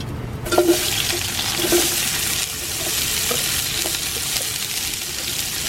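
Two sliced onions dropped into about 100–150 of hot oil produce a steady, loud, bubbling sizzle that carries on throughout, with occasional light knocks from stirring.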